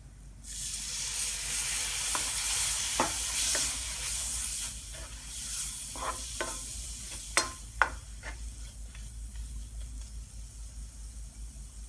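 Coriander powder and chilli powder hiss and sizzle in a hot pan, broken by scattered scrapes and clinks of a spoon stirring; no talking.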